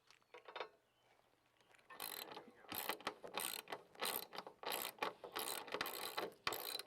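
A socket and ratchet drives 3/8 by 2.5 inch lag bolts through a metal bracket into a wooden privacy fence post, with quick clicking ratchet strokes repeating steadily at close range after a short quiet start.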